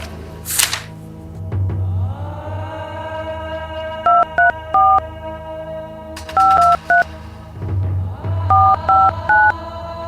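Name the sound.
telephone being dialed in a Hindi village film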